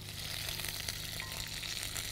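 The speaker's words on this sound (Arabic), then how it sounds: "نبتدي نقلب البصل" Onions frying and being stirred in a pot for a seafood and potato soup, a steady close sizzle with faint scraping of the stirring, no voices.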